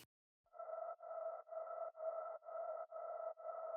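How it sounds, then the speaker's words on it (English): A soft synth pad in a tech house track pulses in steady, evenly spaced chords, each swelling and cutting off rhythmically, sidechained to a four-on-the-floor beat, alone and fairly quiet. "So we have a pad that's going through the whole song."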